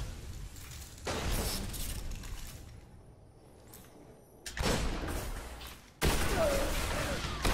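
Sidearm fire in Destiny's competitive multiplayer comes in loud bursts of shots, separated by quieter stretches of ambient game noise.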